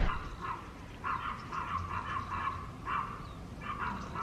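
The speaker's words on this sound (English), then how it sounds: "Sorry about the dogs barking." Several dogs bark in repeated short bursts at a moderate distance, heard from inside a parked car at a house, with no talk over them.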